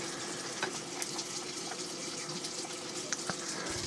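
Water runs from a tap to fill a bowl, a continuous close hiss and trickle with a few small clinks.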